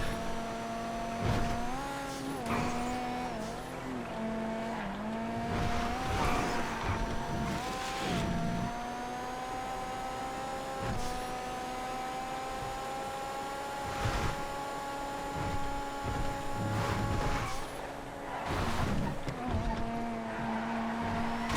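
Sabre Turbo muscle car racing in GTA FiveM, its engine droning continuously with rising and falling revs through gear changes and corners, loud and close for the whole lap section with no talk over it.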